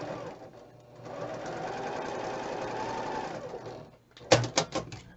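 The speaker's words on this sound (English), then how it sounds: "Now we're going to sew from the upper right to the lower left." A sewing machine stitches quilt block pieces for a patriotic block-of-the-month quilt, running steadily for about three seconds, then stopping before a few short, louder bursts of stitching close by.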